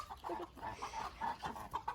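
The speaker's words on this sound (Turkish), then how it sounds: "Atın anne horoz geliyor yemin ederim" A chicken clucks repeatedly in short, soft bursts at a steady rhythm, fairly faint and close.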